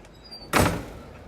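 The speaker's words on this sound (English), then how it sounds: "now I'm going to go out the front door." A prized old-fashioned screen door at the front of a house is pushed open and swings shut, giving one loud, close wooden thunk with a short rattle after a quiet moment, with no talking.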